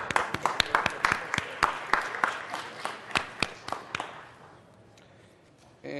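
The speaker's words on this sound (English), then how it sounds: "Let's give them a round of applause." Scattered applause for a family being welcomed at a city council meeting: a modest number of close, sharp claps in an uneven rhythm, thinning out and fading to quiet by the end.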